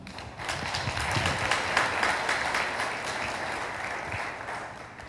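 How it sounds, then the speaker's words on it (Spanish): A lecture audience breaks into dense, sustained applause welcoming a speaker to a theology talk, a steady wash of many hands clapping close by for about five seconds with no voices over it. "Lo recibimos con un aplauso."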